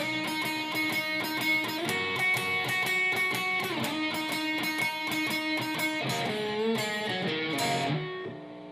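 Electric guitar plays the opening of a blues song with dense ringing notes and bends, steady and loud throughout, no voices, ending with a brief fade.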